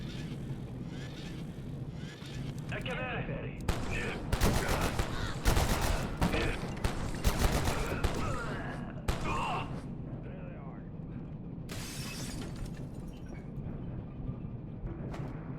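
Bursts of SMG fire in a multiplayer shooter video game, several rapid volleys of varying length spread across the stretch, with a voice talking between and over the shots.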